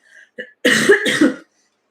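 A few harsh coughs, close by, starting with small throat sounds and building into two strong, raspy bursts before stopping.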